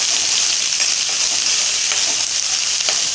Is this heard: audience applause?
no